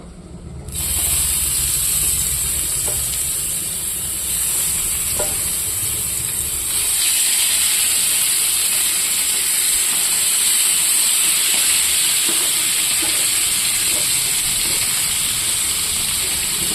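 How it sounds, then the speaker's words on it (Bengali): Puna fish frying in hot oil in a pan gives a loud, steady sizzle and hiss that swells partway through, with occasional faint clinks and stirring, and no voices. "এখানে আমি তেল বসিয়ে দিয়েছি, গরম হয়ে গেছে। এখানে আমি মাছটা ভেজে নেব।"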